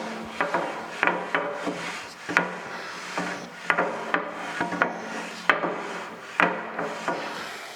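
A machine way from a Thompson surface grinder is rubbed back and forth against a master straight edge, a rhythmic series of scraping strokes, each with a sharp onset, close and moderately loud.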